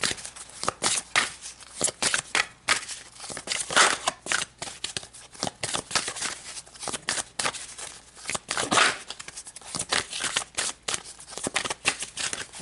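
Tarot cards shuffled and drawn by hand, a run of crisp close riffling and flicking bursts in an uneven rhythm with short pauses between, heard alone without speech.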